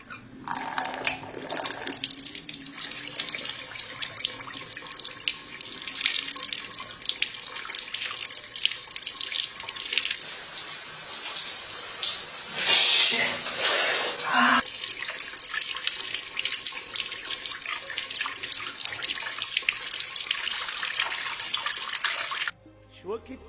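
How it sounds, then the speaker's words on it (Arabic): Water runs from a kitchen tap while tomatoes are washed under it, a continuous splashing hiss that swells loudest in the middle and then cuts off near the end, with voices talking over it. "خل اغسل هاي الطماطيه."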